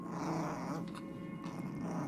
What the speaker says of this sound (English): the next thing I remember is waking up to growling